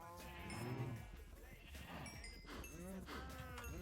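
Livestock in a modded Minecraft farm: several bleating, mooing animal calls in a row, some overlapping, at a low level with faint background sounds between them.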